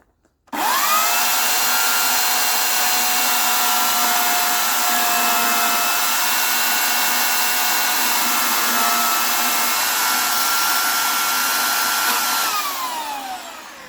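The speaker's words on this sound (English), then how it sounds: "Might have to use my angle grinder" Angle grinder cutting metal for a homemade strongman log starts abruptly and holds a loud, steady high whine for about twelve seconds, with a slight pitch shift near the end before tapering off.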